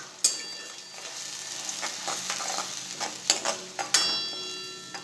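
A spoon stirs thick tomato puree in a hot frying pan, with soft sizzling and a few sharp scrapes and clacks against the metal.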